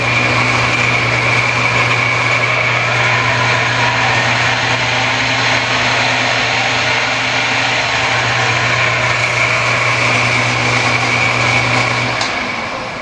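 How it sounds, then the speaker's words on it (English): A machine with a constant V-pulley drive and lever-set variable speed runs steadily, giving a loud, even mechanical hum with a low drone that holds for the whole stretch and eases off near the end; no one speaks. "this machine has constant drive with V pulleys"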